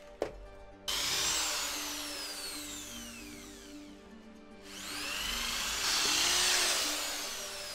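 A drill bores pilot holes through a wooden board for a handmade manga advent calendar, two sustained whining drilling passes with a brief pause between them, close and fairly loud.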